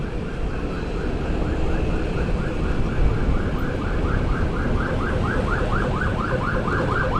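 An ambulance siren wailing in a steady repeating warble through city traffic at night, heard over the rumble of a Honda ADV 350 scooter engine and road noise.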